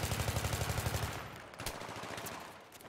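Gunfire in a Battlefield 3 competitive 5v5 match on Damavand Peak, beginning with a rapid, evenly spaced automatic burst. Fainter scattered shots follow in the background, and there is no talking.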